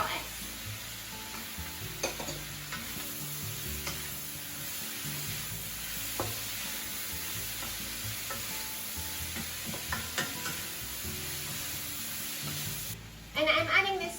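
Vegetables with bamboo shoots and quail eggs stir-fried for ankake yakisoba, a steady sizzle throughout with repeated scraping and clinking stir strokes, close and moderately loud, with a sharper burst of handling near the end.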